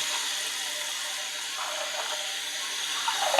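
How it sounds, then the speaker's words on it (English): Acid-dyed yarn is gently rinsed under running water, a continuous airy splash and hiss from a tap that stays steady and close, swelling slightly near the end, with no speech. "I'm going to be very gentle with this as I'm rinsing it out"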